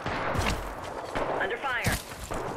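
Gunfire during an Apex Legends match, a few quick close shots and impacts mixed with game effects and brief voice callouts, all fairly quiet and compact.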